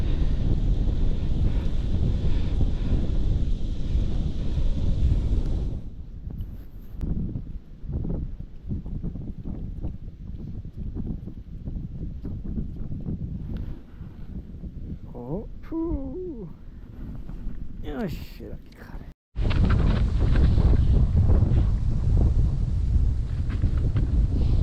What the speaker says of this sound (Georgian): აუ, ქარი როგორ მიშლის ხელს